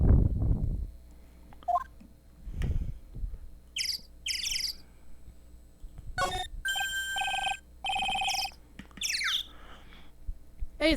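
A public phone rings in the Ace Attorney video game, a series of bright electronic chirping rings in bursts over a low background hum, with no talk.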